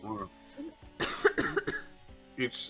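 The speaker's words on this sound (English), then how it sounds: "I just tried to get rid of this cough." A single sharp cough from a person at home during a casual voice chat, close to the microphone, with talk before and after it.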